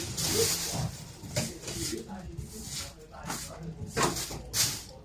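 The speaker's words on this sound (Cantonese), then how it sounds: "啲鼻水喺度呼咁吹。" A congested British Shorthair cat breathes hard through a blocked, runny nose, giving repeated wet, snuffly hissing breaths at a steady rhythm, close by, under people talking.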